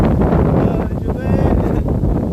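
Strong outdoor wind buffets the microphone with a loud, continuous low rumble and roar throughout, and a voice speaks faintly underneath.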